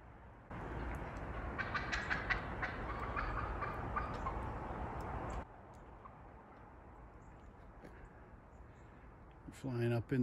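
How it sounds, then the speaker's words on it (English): Wild turkeys at an evening roost, the males gobbling in bursts over a steady outdoor background, mostly at middle distance, with a louder closer call near the end. "the males will, you listen, you can hear them"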